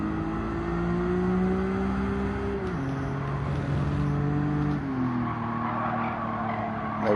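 A race car in Gran Turismo 7 accelerates loudly, its engine droning and climbing in pitch, then dropping sharply at two gear shifts, with some tire skidding and no talk.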